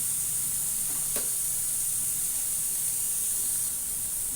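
Onions frying in a pan give off a steady, hissing sizzle, close and even throughout, with one faint clink near the start and no voices.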